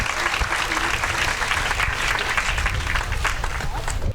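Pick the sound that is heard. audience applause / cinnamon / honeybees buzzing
audience applause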